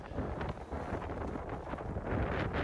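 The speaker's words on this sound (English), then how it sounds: "Definitely the height of the wind speed in this round." Wind gusting across an open golf course, a steady rough rumble of air buffeting the microphone with no other sound.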